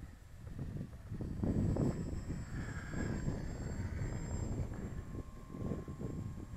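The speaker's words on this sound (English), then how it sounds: "Boy, that pilot certainly knows his aeroplane." A steady, droning engine rumble from an aeroplane flying overhead at dusk swells and eases slightly, with a thin whine riding above the low roar.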